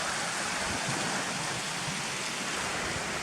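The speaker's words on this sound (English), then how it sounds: "there's fast moving rapids just there before you get to this farmer's wooden bridge across" Rushing river rapids and a small waterfall near a farmer's wooden bridge at Cotterforce, a steady broadband hiss of churning water heard from close by, with no voices.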